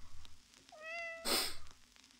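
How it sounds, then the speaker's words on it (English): A greedy pet cat in the video game Tatiana gives a single clear meow, followed by a brief breathy burst, against a quiet backdrop. "Oh, Vitali, have you finished your fish? Greedy cat."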